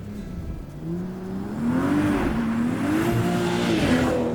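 A 2025 BMW M240i xDrive accelerates from inside the cabin, its engine note rising and holding a loud, steady drone as it pulls through the gears.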